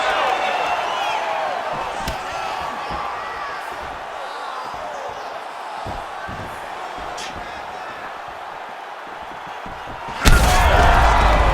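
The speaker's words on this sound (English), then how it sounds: "both of them are landing massive shots" In a UFC 5 video game bout between Israel Adesanya and Kamaru Usman, scattered punches land as dull thuds over steady arena crowd noise. A heavy slamming impact near the end is louder. A commentator talks throughout.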